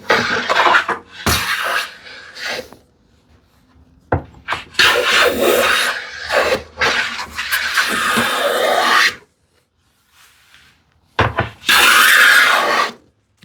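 A hand plane shaves the underside of a wooden shoe tidy in long rasping strokes, loud and close, with pauses between bursts and a final quick pass.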